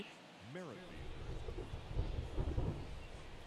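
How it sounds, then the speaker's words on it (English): Thunder rumbles in MLB The Show 23 during a rainy ballgame, a low rolling growl that swells beneath a commentator's voice. "you can even hear the thunder"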